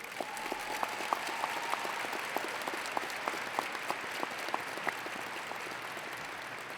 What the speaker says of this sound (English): we could give a round of applause to all the teachers that took their careers to foster our future